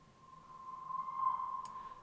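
A single soft tonal note from a reversed pluck sample, swelling from quiet to loud in a reversed envelope, then cutting off abruptly.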